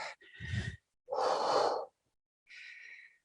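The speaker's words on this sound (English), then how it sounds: "Ujjayi. Breathing" Ujjayi breathing during a power yoga practice: three slow, audible breaths, each a soft throaty hiss of several seconds, with short quiet gaps between them and no talking.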